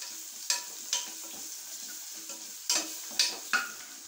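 Chopped tomatoes sauté in a pan for a chicken curry, a soft steady sizzle broken by several sharp scrapes and clacks of a stirring spoon, close and fairly quiet.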